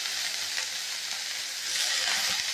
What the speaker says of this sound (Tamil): நல்லா வதங்கட்டுங்க.